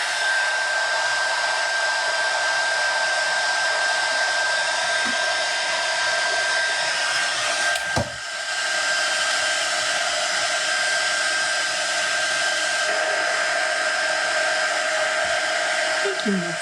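A hair dryer runs steadily and loudly for most of the time, drying paint on a white DIY snowman craft, with one brief dip in the middle before it resumes at full blast.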